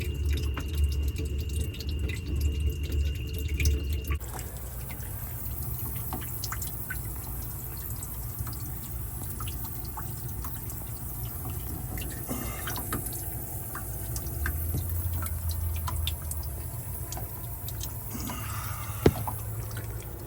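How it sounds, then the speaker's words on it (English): Water leaks from a pipe hookup, dripping and trickling steadily over a constant background hum that shifts after a few seconds; occasional sharper drips stand out near the end, and nobody speaks. "It does seem like all the leak is on the front here at the pipe"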